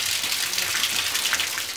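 Water from a hose gushes steadily through the heater matrix of a Ford Transit during a cooling system flush, a continuous close hiss of rushing liquid with no pauses.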